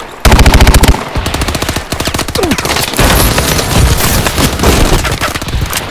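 Rapid automatic gunfire and a laser gun blast away in the Call of Duty: Advanced Warfare Exo Survival mode, loud dense bursts of shots with brief gaps, mixed with zapping beam tones and explosions.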